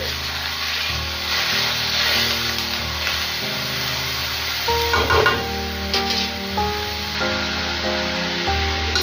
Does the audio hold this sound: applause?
no